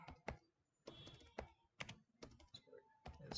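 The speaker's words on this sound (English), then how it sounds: "So for that, we are going to type export" Keystrokes on a computer keyboard while code is typed, an uneven burst of separate crisp clicks, close and clear, with no talk.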